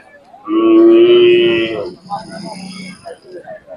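One long, loud moo from a cow at a Sangola Khillar cattle and bullock market, close by and sustained for over a second, followed by softer background voices and market noise.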